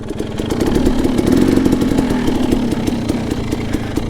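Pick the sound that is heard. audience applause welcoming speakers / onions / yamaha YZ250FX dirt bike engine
yamaha YZ250FX dirt bike engine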